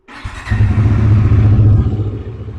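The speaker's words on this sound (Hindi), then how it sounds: "तो एक बार इंजन ऑन कर लेते हैं।" A motorcycle engine starts up and settles into a steady, loud idle close by, with a deep throbbing rumble and no talk over it, as the bike is readied for chain cleaning and lubrication.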